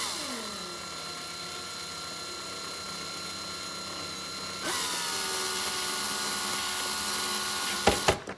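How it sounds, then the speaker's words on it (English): A small powered driver whines steadily while putting screws back into a Nirvana F-Light 160 paramotor harness, rising in pitch midway, then stopping with a couple of clicks at the end. "I'm gonna put the screws back in"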